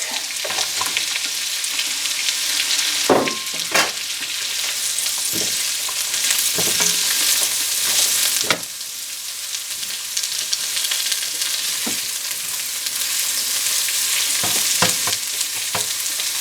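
Onions and leeks frying in a couple tablespoons of grease give off a loud, continuous bright sizzle, with occasional clacks and scrapes of stirring against the pan, close up and with no voice.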